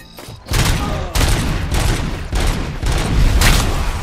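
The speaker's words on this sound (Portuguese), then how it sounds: "Essa arma aqui, ela parece ultra mega pesadona, um tiro pesado, velho." Heavy gunfire in the RoboCop: Rogue City video game, with loud, booming bursts of shots repeating in several separate volleys close up, no talk between them.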